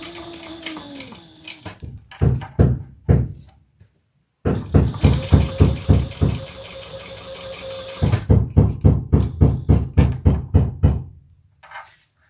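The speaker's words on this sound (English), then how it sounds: "hear a bunch of pounding, we're getting in the new air conditioner." Rhythmic mechanical pounding in bursts while a new air conditioner is installed, sharp repeated thuds coming in fast runs separated by pauses, with a steady hum under part of it.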